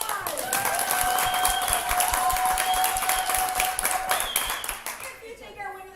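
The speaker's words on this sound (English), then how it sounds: "Narcissa Vanity, please give her a big round of applause." Audience applause at an old west melodrama show, honoring the best actor: steady mass clapping fills most of the moment with cheering voices over it, then fades near the end.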